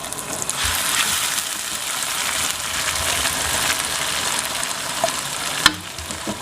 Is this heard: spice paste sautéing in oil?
yes